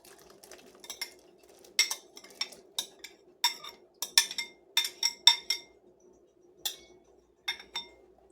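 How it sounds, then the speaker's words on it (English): Minced onions and garlic going into a soup pot, heard as a run of sharp metallic clinks and scrapes of a utensil against the pot, irregular and close, with quiet gaps between. "I'm going to go ahead and get that into the pot"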